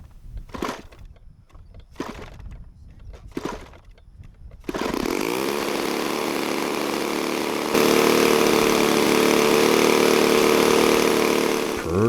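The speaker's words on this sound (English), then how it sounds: "I decided to start up the engine for the first time to make sure it ran okay" A small glow or gas engine on a Cessna C-188 Agwagon RC model airplane is flipped over a few times, then catches and runs with a loud, buzzy, steady drone that rises in pitch and intensity as it is throttled up.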